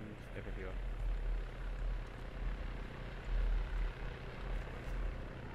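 Low, steady rotor drone of a helicopter in a video game, with squad voices talking over it throughout.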